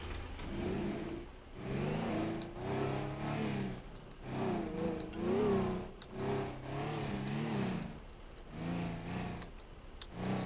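A loud car engine in a video game revs repeatedly, rising and falling in surges for several seconds, close and alone with no talking.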